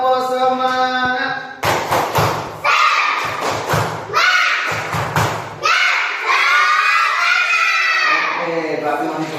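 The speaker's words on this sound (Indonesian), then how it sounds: "Anak-anak 1, 2, 3, tepuk semangat." Schoolchildren in a classroom clap out the rhythmic tepuk semangat chant, loud sharp claps in short patterned bursts mixed with their shouted chanting, led by a teacher's voice at the start.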